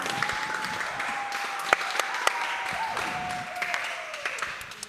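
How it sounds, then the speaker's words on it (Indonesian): Applause fills a church hall during an Indonesian Independence Day evening of praise, steady moderate clapping with a few sharper claps, a faint sustained tone running underneath and fading slightly at the end. "Kita berikan tepuk tangan sekali lagi."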